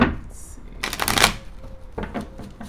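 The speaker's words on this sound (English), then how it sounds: "One more shuffle." Tarot cards are riffled briskly up close in a couple of quick bursts, with soft papery rustles between them.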